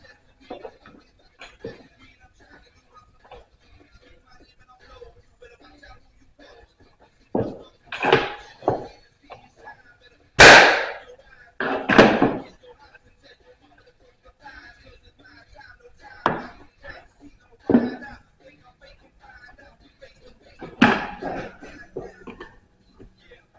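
A nail gun firing staples into wood on a workbench produces a series of sharp, close pops spaced irregularly, one especially loud shot in the middle, with quieter handling sounds between them.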